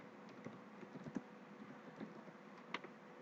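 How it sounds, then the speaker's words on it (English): Keys on a computer keyboard typed into a program's entry field, a faint sparse series of soft clicks at an uneven pace. "I can type anything here."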